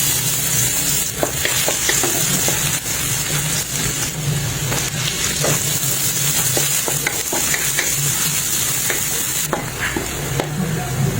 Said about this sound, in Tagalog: Dito na rin tayo magigisa ng bawang at sibuyas pero binawasan ko muna ang mantika na to